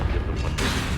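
Bombarda and Confringo spell blasts from Hogwarts Legacy fill the moment with a dense, roaring burst of noise that swells sharply partway through and keeps sounding loud to the end.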